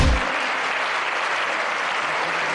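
Dense, sustained applause from a large audience at a cricket awards show, a steady wash of clapping that fills the whole stretch without a break.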